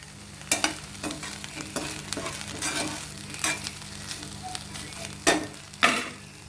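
Dried fish chammanthi fries in coconut oil, giving a steady close sizzle broken by sharp scraping stirs of a spoon in the pan.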